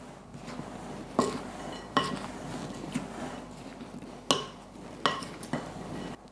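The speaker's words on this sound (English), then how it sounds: "Give that a really good mix." Figgy pudding ingredients and spices being stirred in a bowl: a soft rustling scrape punctuated by about six sharp clinks of spoon against bowl at irregular intervals, close and moderately quiet.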